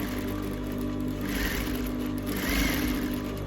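A Juki industrial sewing machine runs a test stitch, giving a steady close whir with a faint rise and fall in speed.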